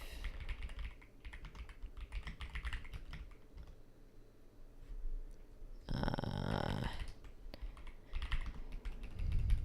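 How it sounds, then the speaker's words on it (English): Fast, irregular clatter of typing on a computer keyboard while entering code, close and crisp, in bursts with brief pauses and one louder dense stretch of rapid keystrokes. "I don't know why I'm typing it out again."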